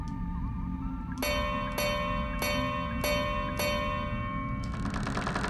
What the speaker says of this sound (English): Let's try ringing the bell.